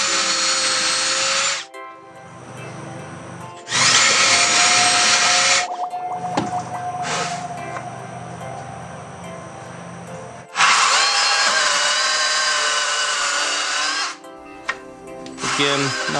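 A power drill bores drainage holes into wooden planter planks in several loud, whining bursts of a few seconds each, separated by quieter pauses.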